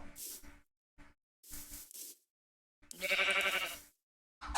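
Repeated synthetic sheep bleats from Minecraft, several short calls with gaps between them, the last one longer and brighter, clear and close with no talking.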